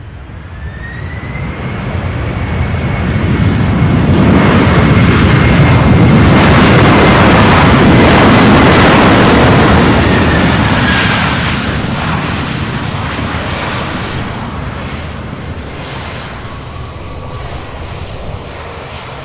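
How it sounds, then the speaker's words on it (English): A Boeing 767 landing at Louisville International Airport sends a deep, loud engine roar swelling up close, peaking in a rumbling wash before slowly fading into a distant whine. "Nice landing with incredible sound out of that 767."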